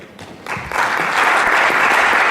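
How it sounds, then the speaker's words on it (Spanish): An audience at a talk bursts into applause to welcome a speaker, the clapping starting thinly and quickly swelling into a full, dense, steady round from a room of listeners. "recibámoslo pues con un aplauso"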